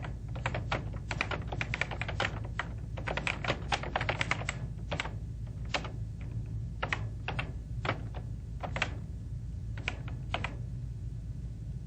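Rapid, uneven keystrokes on a computer keyboard, close and clear, entering text into a Word 2000 document, with short pauses between bursts over a low steady hum.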